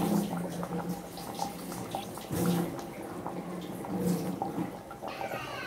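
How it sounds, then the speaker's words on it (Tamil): Water boiling in a pot for chicken biryani made in a pressure cooker, a close, continuous bubbling and gurgling with irregular swells and small splashes. "இப்போ தண்ணி நல்லா பாயில் ஆகுது."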